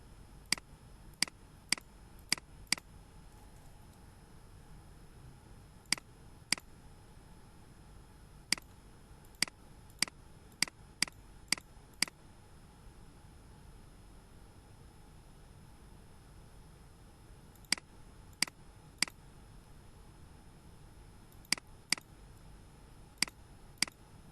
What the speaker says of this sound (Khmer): ខ្ញុំ click វាមកដោយសារប្រើម៉ៅឆ្វេង